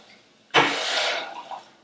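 Water pours into a cooking pot for quinoa on a hot stove, a sudden splashing rush that starts abruptly and runs steadily for about a second before tapering into a few trickles.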